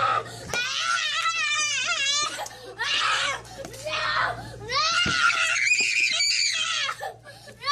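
A child's tantrum of shrill, high-pitched screaming and screeching, with wailing cries in several loud bursts and brief gasping breaks.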